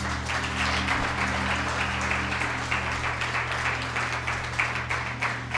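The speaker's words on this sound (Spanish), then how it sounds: "Dale un aplauso al Señor si quieres." Church congregation applauding during an Easter Sunday service, steady moderate clapping over a sustained low instrumental drone, a soft voice occasionally audible.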